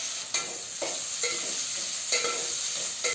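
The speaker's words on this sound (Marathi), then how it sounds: "लसूण थोडी फ्राय व्हायला द्यायची आणि त्याच्यानंतर ती थोडी लाल व्हायला आली ना की कांदा" Onion frying in oil with garlic and cumin sizzles steadily in a pan, with a few soft stirring scrapes breaking through the continuous hiss, close by and without speech.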